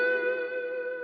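A single sustained electric guitar chord on a single-coil neck pickup with overdrive rings out and slowly decays under a wash of reverb.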